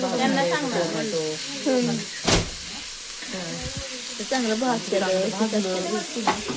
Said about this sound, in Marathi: तेलामध्ये आता कांदा भाजते टाकणार कांदा थोडा लाल होतो